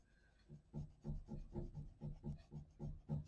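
Woomer crayons glide across paper in about eight quiet, evenly spaced rubbing strokes, close and soft, with no voices.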